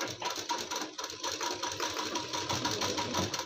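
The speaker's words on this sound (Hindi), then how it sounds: "यहाँ पे थोड़ा सा सिलाई स्लो चलाएंगे" A sewing machine runs slowly and steadily, stitching the lining of a suit, a steady mechanical whir with a soft rhythmic clatter throughout, close and moderately loud.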